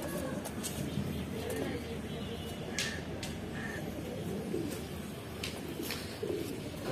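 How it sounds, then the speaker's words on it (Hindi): Madrasi Mukhi pigeons coo softly and low in a steady murmur, blended with a noisy background and a voice talking over them throughout. "मद्रासी मुखी कबूतर।"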